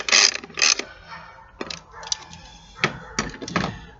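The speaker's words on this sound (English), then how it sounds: "You take the 10mm socket and tighten it back down." Ratcheting clicks of a 10mm socket wrench tightening a bolt on a plastic coil pack during spark plug work, several short bursts of close mechanical clicking with quieter gaps between.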